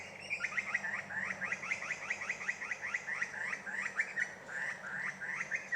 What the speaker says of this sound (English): We call it a butcher bird